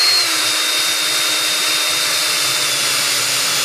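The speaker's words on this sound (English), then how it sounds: "I'm going to pre-drill another hole and then throw the other screw in" A handheld power drill whines steadily and loudly at close range, pre-drilling a hole in a bracket on a composite sailplane model frame, one continuous run with no pauses.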